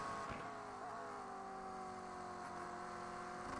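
Onboard sound of a GT3 race car in a sprint race: a steady, sustained engine drone with a slowly gliding pitch, heard continuously at moderate level without talk.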